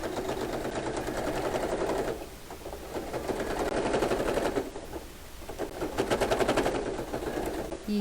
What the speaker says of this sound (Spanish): Y nos vamos derechito aquí, cosiendo hasta el final.